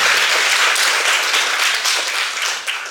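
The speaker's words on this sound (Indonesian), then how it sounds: "boleh minta tepuk tangan yang luar biasa untuk Bapak Ibu semua." Applause from an audience at a PLN NPS Livefit event, a steady dense wash of clapping that stays loud for the full few seconds before easing slightly at the end.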